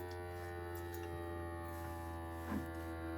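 A jar vacuum sealer runs on a canning jar of dry goods, giving a steady electric hum and buzz throughout, with a brief louder burst near the end.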